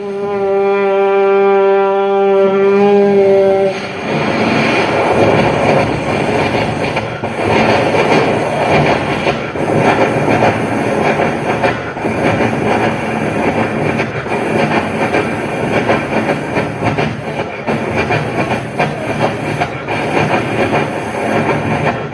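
At a Kerala school arts festival competition, a voice imitates a train speeding away from a railway station: a loud horn-like tone for a few seconds, then a rushing, rhythmic clatter that continues steadily to the end.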